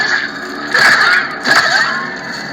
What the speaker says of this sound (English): And listen to that background on the hum.